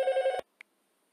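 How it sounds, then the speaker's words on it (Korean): A telephone rings indoors during a nursing lecture: one loud, bright electronic ring burst that cuts off abruptly, followed by a faint short beep and then quiet. "전화가 와가지고"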